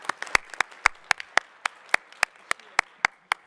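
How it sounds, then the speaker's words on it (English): A small audience at a hybrid conference meeting claps, sparse separate hand claps in an uneven rhythm, fairly close and with no talking. "a round of applause, please"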